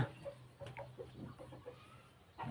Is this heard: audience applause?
no